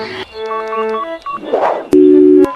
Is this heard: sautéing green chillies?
no